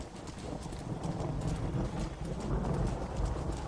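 Horse hooves clip-clop at a steady, brisk rhythm in the Red Dead Redemption video game, a continuous close trot over soft ground.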